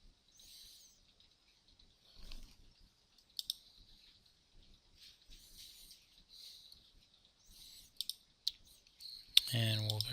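Computer mouse clicks during a software setup on a PC, sharp quiet clicks scattered across the clip with a louder burst near the end, over faint background hiss.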